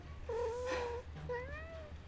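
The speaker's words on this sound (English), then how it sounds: "That's the cat that screams at the door," A house cat screams at a door, two drawn-out rising and falling meows close by, separated by a short pause, with faint room noise behind.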